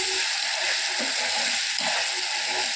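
Raw mango pieces sauté in hot oil, giving a steady broadband frying hiss that stays constant and close throughout, with faint low stirring scrapes beneath.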